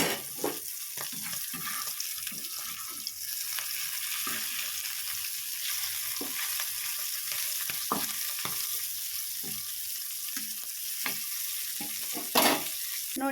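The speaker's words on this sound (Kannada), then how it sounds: "ನೋಡಿ ಫ್ರೆಂಡ್ಸ್, ಇದು ಇವಾಗ ಫ್ರೈ ಆಗ್ತಾ ಇದೆ" Small bonjil fish shallow-fry in hot oil with a constant crackling sizzle close by, broken by scattered scrapes of a turner against the pan and a louder clatter near the end.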